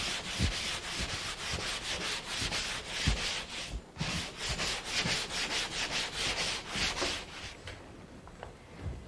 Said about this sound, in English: After the compound is dried, sand it smooth.